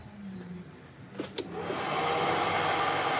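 A homemade stand hair dryer is used to dry a British Shorthair cat during a bath. After a couple of brief knocks, the dryer rises into a loud, steady, close blowing roar that continues to the end.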